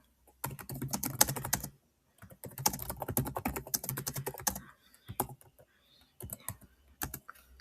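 Quick bursts of clicky computer keyboard typing as a question is entered, close and clear, with short pauses between runs of keystrokes and a few isolated taps at the end.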